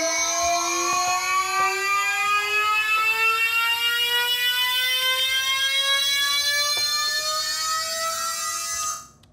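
A retrowave synth patch built in Ableton plays one sustained, bright harmonic tone that glides smoothly upward by an octave, loud and alone for about nine seconds, then cuts off abruptly.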